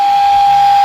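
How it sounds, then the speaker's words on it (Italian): A loud, steady pure tone from a modulated oscillator holds at one pitch through the speaker of a valve AM/SW radio, with a soft hiss and faint low ripple hum underneath. "Dovremmo riuscire a sentire la nota generata dall'oscillatore modulato."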